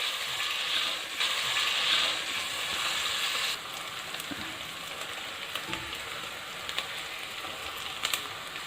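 A medium sliced onion dropped into half a cup of hot oil for bhindi gosht, a loud steady hiss of frying that eases slightly after a few seconds, with occasional light clinks of a spoon.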